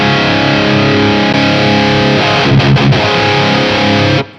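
Heavily distorted, tight and bright high-gain electric guitar through a BT Arkon 50 amp on its FBR preset, dense palm-muted chugging with brief stop gaps, loud and close before cutting off abruptly.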